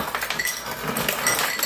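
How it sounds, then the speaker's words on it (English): Ice maker dropping ice, a dense clattering shower of cubes clinking and tumbling close up for under two seconds, with no talk. "Let's import the ice maker."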